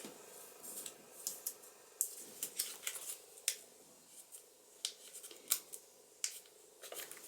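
Embossed vellum paper being folded along its score lines, giving a run of short crisp creases and crackles, close and fairly quiet, with no talking.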